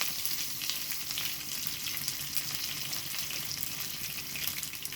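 Cumin seeds and dried chillies sizzle in hot oil with a steady, crackling hiss close by, the frying continuous and even over a low gas flame.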